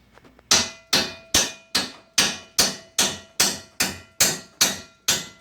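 Eleven loud, evenly spaced hammer blows on an Azusa mini bike kit part ring out close by, each strike sharp with a short metallic decay.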